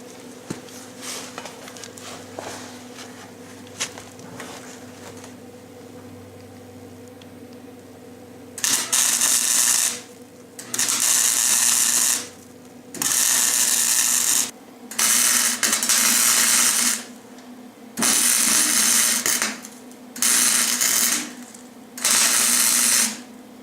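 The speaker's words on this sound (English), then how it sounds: "So I'm gonna try to fill that with the welder." A welder fills a gap on a VW Thing body, first a quiet hum and then seven loud, crackling bursts of a few seconds each separated by short pauses.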